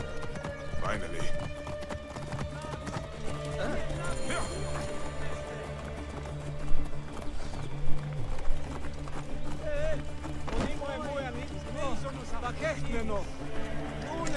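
Hooves pound in a fast gallop as a horse runs in Assassin's Creed Origins on Xbox One, continuous and near, mixed with game score, a whinny and intermittent talking.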